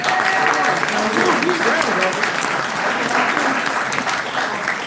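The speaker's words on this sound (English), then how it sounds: "So I'm going to give one more round of applause." Steady, dense applause from the audience at the Groundcover News 15th-anniversary gathering in Ann Arbor, loud and continuous throughout, with voices speaking over it.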